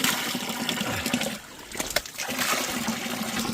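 Cold water from a mountain spring in a village in the hills pours and splashes steadily, a continuous close rushing flow with brief dips and bursts of splatter.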